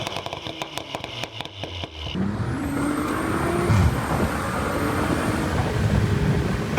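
Audi S4 B9 with a stage 3 hybrid turbo upgrade starts off and drives away, its engine note rising into a steady, loud, close drone with brief whistling turbo tones after an initial idle.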